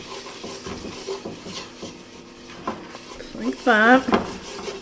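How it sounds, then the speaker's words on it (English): A tablespoon stirs flour into a creamy cheesy asparagus soup in a pot, giving soft scraping and clinking strokes. A brief spoken phrase comes near the end. "I'm gonna add 2 tablespoons of flour. I'm just gonna make sure this gets stirred up really well."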